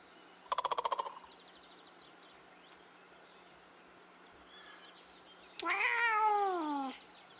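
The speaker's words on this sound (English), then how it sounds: "only an indie game can make you excited about meowing." Cat meows from the indie video game Kentucky Route Zero: a short rapid chirping burst near the start, then a longer drawn-out meow a few seconds later, moderately loud over a quiet background hum.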